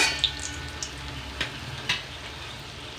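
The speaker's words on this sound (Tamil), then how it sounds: "கொஞ்சம் பொரிச்சு எடுப்போம்." Yam kola balls deep-frying in oil make a steady, close bubbling sizzle, with a few light stirring knocks scattered through it.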